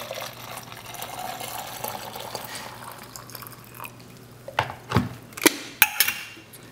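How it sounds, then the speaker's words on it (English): Just-off-the-boil water poured from a kettle into a glass Chemex coffee pot, a steady liquid fill with a few sharper splashes and clinks toward the end, heard up close. "I want to put the water into the pot,"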